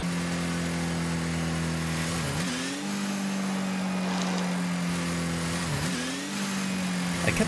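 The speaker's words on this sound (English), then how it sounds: "And in reverse?" Octane car engine from the Rocket League video game, played in reverse: a steady, loud mid-pitched engine drone with two brief dips in pitch, continuous and alone.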